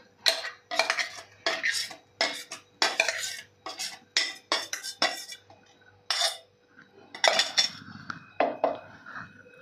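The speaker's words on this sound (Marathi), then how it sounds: "इथे मी भांडं घेतलेलं आहे आणि त्यामध्ये आपल्याला हे मिश्रण सगळं काढून घ्यायचं आहे" Fasting-style dosa batter mixture scraped out into a large vessel, a spoon rasping and knocking against metal in quick repeated strokes, close and fairly loud.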